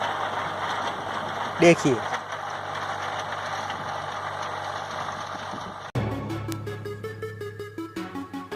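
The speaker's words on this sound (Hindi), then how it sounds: "ट्रैक्टर की सहायता से मैंने अच्छे से इस प्रकार से मिट्टी में मिला दिया था" A tractor engine drones steadily while working a sunn hemp green-manure crop into the soil, a continuous low hum that shifts to a rougher, pulsing tone near the end, with a brief spoken word early on.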